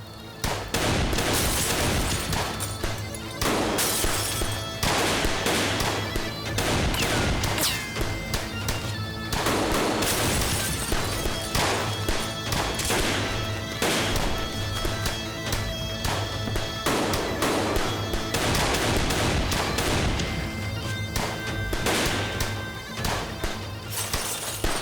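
Sustained heavy gunfire from several guns in a shootout, dense overlapping bursts with crashes and impacts that run on steadily for about twenty-five seconds without pause.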